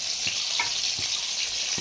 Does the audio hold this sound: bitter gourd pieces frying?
yes